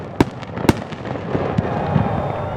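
Fireworks go off at a city event at the Irving Convention Center, with two sharp, loud bangs early on followed by a steady wash of crackling bursts and distant pops.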